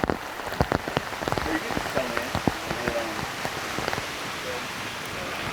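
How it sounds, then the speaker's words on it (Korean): Heavy rain from a sudden shower patters onto a surface in dense, irregular drops, a downpour close by with no voices. "갑자기 내린 소나기로 이날의 낚시는 중단되고 말았습니다."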